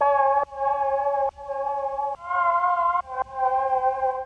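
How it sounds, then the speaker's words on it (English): A sustained, wavering detuned vaporwave-style synth plays a slow sequence of held chords, its tone pulsing with tremolo panning left and right and trailing into a washy, old-fashioned reverb. "I've got the tremolo that will push it to the left and the right"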